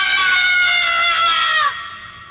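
A man screams in a long, loud, strained cry that holds for over a second and then cuts off abruptly, leaving a fading tail, used as a horror story sound effect.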